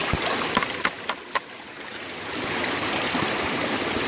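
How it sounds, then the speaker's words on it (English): Panning for gold in a stream: a steady wash of flowing water with a few sharp splashes and sloshes early on, then an even rushing trickle, close by, with no talk. "I'm going to start panning."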